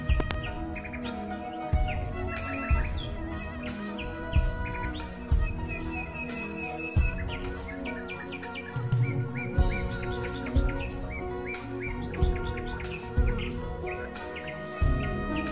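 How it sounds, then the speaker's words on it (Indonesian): Birds chirp and tweet repeatedly in short bright bursts, several calls overlapping in a steady rhythm against a low background hum. "Coba kalian dengar, ada suara burung yang bernyanyi."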